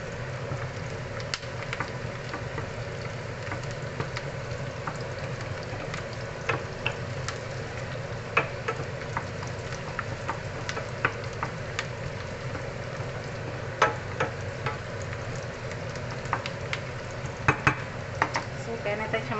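Food browning in a frying pan, a continuous crackling sizzle dotted with sharp pops and occasional stirring scrapes, close and fairly loud throughout.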